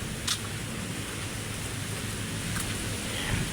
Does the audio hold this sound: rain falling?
yes